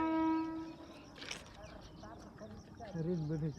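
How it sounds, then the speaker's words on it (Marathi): A train horn blares loudly at the start while the train arrives in Beed, followed by the rumble of the train and people talking nearby. "आले पहा रेल्वे आली"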